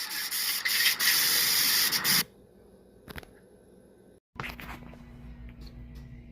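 Spray can hissing loudly in a long continuous burst as paint goes onto a repaired dump trailer door hinge, then quiet with a few faint clicks and handling noises.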